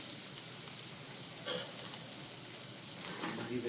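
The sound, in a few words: shrimp sautéing in a pan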